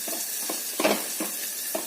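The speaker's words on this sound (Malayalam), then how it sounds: "തേങ്ങ ചേർത്തിട്ട് ഇളക്കി" A few scraping strokes of a spoon stirring vegetables with grated coconut in a pan over a soft, steady sizzle, close by with no talking.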